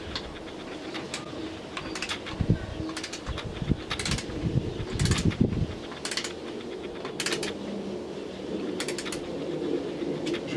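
A torque wrench slowly tightens bicycle crankset bolts to a set torque, giving a series of faint, close ratcheting clicks in short bursts spaced a second or so apart over a quiet background.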